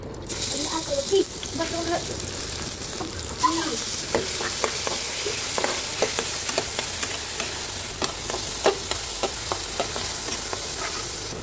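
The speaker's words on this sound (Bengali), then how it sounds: "আগে থেকে কুচে রাখা সেই পেঁয়াজ আর কাঁচামরিচগুলো তেলের মধ্যে ঢেলে দেবো" Chopped onion and green chilies hitting hot oil for a meat-filled crispy puli pitha, a loud hissing sizzle that holds steady throughout, with scattered spatula scrapes and taps close by.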